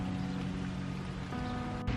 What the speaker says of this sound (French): il pleut vraiment des cordes